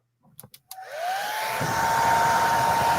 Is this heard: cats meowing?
no